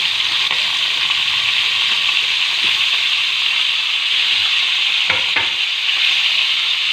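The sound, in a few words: beef frying in oil for karahi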